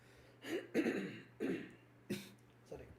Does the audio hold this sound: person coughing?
yes